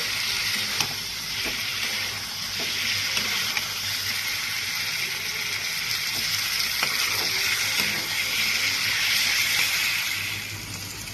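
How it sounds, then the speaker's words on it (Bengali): Steady, close sizzling of an egg frying in a hot pan, continuous throughout with faint scraping stirs now and then. "এর মধ্যেই আমি অনেকক্ষণ ধরে একটু ভেজে নিচ্ছি"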